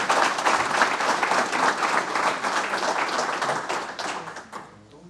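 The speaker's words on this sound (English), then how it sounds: "Please give them a round of applause." A crowd at a fire rescue pinning ceremony claps for firefighters in steady, dense applause that fades toward the end.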